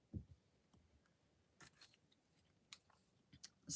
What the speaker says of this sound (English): I'm just going to round it off using my scissors.